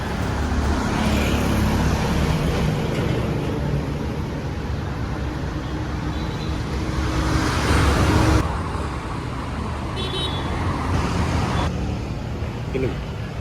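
Steady, rushing road noise of a Tata Altroz car on the move, with traffic sounds around it and faint voices in the background.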